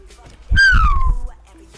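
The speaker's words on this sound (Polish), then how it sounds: "wybaczcie ludzie w sławkach, jeżeli ten gwizd był dla was zabójczy" A loud, sharp whistle that rises and then slides downward, heard alone and close up during a Skate 3 gameplay session on PS3.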